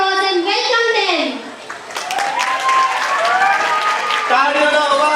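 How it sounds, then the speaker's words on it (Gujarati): An audience claps at a community prize distribution ceremony, a rising patter of many hands under loud voices and children's chatter that go on throughout. "Give a big round of applause and welcome them."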